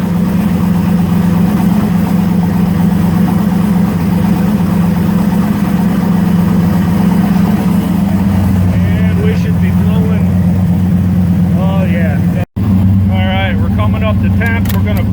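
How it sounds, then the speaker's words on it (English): Steady mechanical drone of cooling fans running alongside an idling engine, loud and continuous, with a voice speaking over it toward the end. "We're going to turn the transmission fan on and the engine cooling fan."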